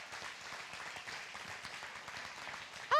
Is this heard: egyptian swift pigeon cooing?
no